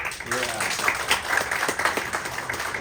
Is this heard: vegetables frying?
no